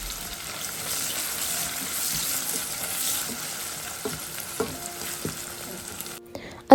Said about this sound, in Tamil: சேர்த்து அது ஆயிலோட நல்லா மிக்ஸ் பண்ணிக்கொள்கிறேன்